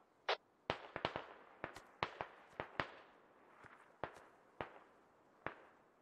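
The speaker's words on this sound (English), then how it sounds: "Yo, watch out, there's enemy mortar." Enemy mortar fire in the video game Squad, on a snowy mountain battlefield: a run of about a dozen sharp, separate blasts at uneven intervals, moderately loud with short decaying tails, and no talk over them.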